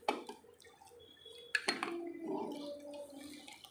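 Chicken biryani masala is stirred in a pot, heard as quiet, close scraping and a few sharp metallic clinks with a soft wet texture between them.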